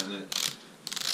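A Boa lacing dial on a snowboard boot is twisted tight, giving two short bursts of fast, close ratcheting clicks separated by a brief pause.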